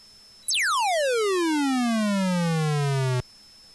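Siren-style tone from an Atari computer program, a loud pure electronic beep that sweeps steadily downward in pitch for about three seconds, rich in harmonics, then cuts off abruptly.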